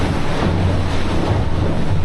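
Southern Ocean waves crash and rush beneath a thin carbon fiber racing yacht hull during the Vendée Globe, a loud, churning wash mixed with wind buffeting, continuous with no speech.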